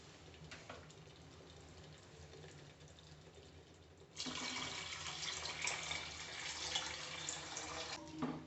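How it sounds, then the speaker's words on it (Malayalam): Water splashes into a cooking pot holding three glasses of basmati rice for chicken kabsa. A soft background gives way halfway through to a steady, close pouring stream that runs to the end. "2 ഗ്ലാസ് വെള്ളം കണക്കിൽ 6 ഗ്ലാസ് വെള്ളം ഞാൻ ഒഴിക്കുന്നുണ്ട്."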